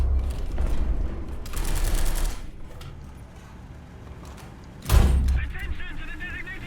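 Tank cannon firing in War Thunder, a T-26-4 or TB-3 combo match: loud game gunfire and heavy booms, with one sharp powerful blast late in the clip and talk underneath.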